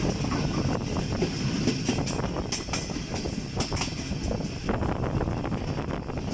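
The 41 Up Karakoram Express rolls at night past Sarhari railway station before Nawabshah, heard from the last coach as a steady loud rumble with rhythmic clickety-clack of wheels over rail joints and some wind noise.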